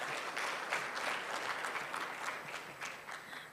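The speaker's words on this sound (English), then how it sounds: "A round of applause for Ghislaine." An audience at a health research symposium claps in applause, a fairly faint, steady patter of many hands heard from a distance without speech.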